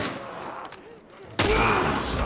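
Rifle gunfire in The Last of Us Part 1 bursts in loudly and close after a quieter stretch, a dense volley that fills the rest of the clip.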